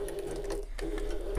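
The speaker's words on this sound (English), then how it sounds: "I'm going to pivot and sew back over that same line" A sewing machine stitches back over a seam line on a small bag. It hums in a steady, close, rhythmic run with a brief dip partway through and no talk.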